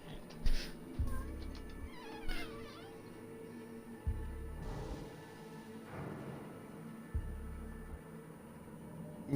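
Cat meowing in a video game, several short cries over a low game soundscape with repeated thudding bass hits and no talk.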